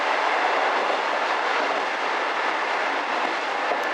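Steady, dense rail roar from inside a moving train as it gathers speed, a continuous loud rumble with wheel noise holding evenly throughout and no talking.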